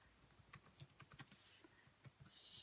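Keys tapped on a computer keyboard in a steady run of close, crisp clicks, ending in a brief louder hiss.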